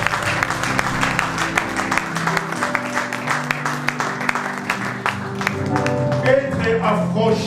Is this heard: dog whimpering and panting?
no